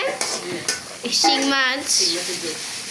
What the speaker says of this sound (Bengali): এখানে রান্না হচ্ছে ছোট ছোট চিংড়ি মাছ দিয়ে আলু রান্না করতেছে